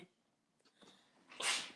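A single sharp sneeze bursts out at the end after a quiet breath or two, close and fairly loud.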